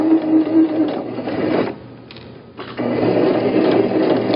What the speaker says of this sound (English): go ahead and sew to the edge, back stitch, and finish your stitch.